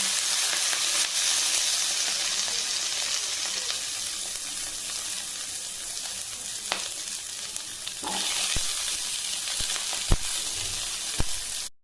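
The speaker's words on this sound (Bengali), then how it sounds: "দেখো ফোড়নগুলো দিয়ে দেওয়ার পর ধুয়ে রাখা কাটা সবজিগুলো একে একে দিয়ে দেবো" Washed, cut vegetables hit hot oil with five whole tempering spices, giving a steady, bright sizzle and hiss, with a few sharp stirring clacks near the end.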